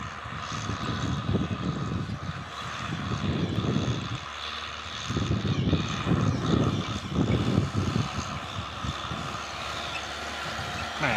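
A Kubota M6240 tractor drives across a field tilling dry soil, a loud, steady diesel engine drone with surging, rumbling low-end as the tiller churns the dirt, close by and continuous.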